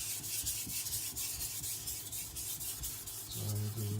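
A Sakon Ryuga gyuto, its blade badly bent, being sharpened on a stone, giving a steady close rubbing rasp with repeated strokes throughout and a brief tonal ring near the end.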